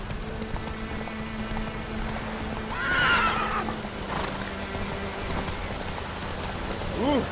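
A horse gallops in The Witcher 3 with a steady clip-clop of hooves under falling rain and a single sharp whinny partway through.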